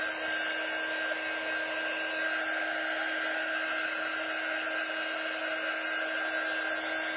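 Hair dryer blowing steadily and close on a drying craft project, a shamrock door tag, with an unbroken whine and airy hiss lasting throughout and no talking.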